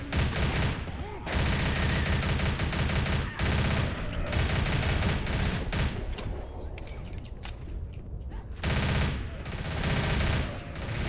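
Heavy gunfire in the zombie shooter Left 4 Dead, Dead Air campaign: rapid, sustained automatic bursts blaze almost continuously, broken by a few brief pauses, loud and close.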